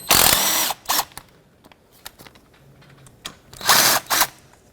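Power drill or impact driver backing out water pump bolts on a 2005-2010 Pontiac G6, with two loud bursts of whirring at the start and near the end separated by quiet clicks and handling noises.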